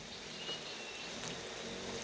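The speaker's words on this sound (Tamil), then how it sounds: "இவ்வளோ மழை பெஞ்சுது, ஆனால் கொஞ்சம் கூட" Heavy rain falling outside a window in a Ugandan rainforest, a soft steady hiss of downpour with a few faint drips, constant throughout and without talk.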